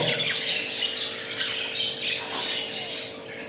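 Budgerigars squawk and chatter in rapid, overlapping harsh calls close by, moderately quiet over a faint steady electrical hum, with no speech.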